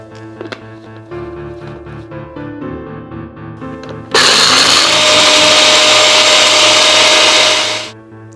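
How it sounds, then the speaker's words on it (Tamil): Kitchen mixer grinder powdering whole masala tea spices, a loud steady high-pitched whirring grind that starts abruptly after quieter kitchen sounds, runs about four seconds and winds down. "இன்கிரிடியன்ட்ஸை எல்லாத்தையும் நம்ம மிக்சியில் அரைச்சி ஒரு பவுடர் பண்ணி வச்சுக்கலாம்."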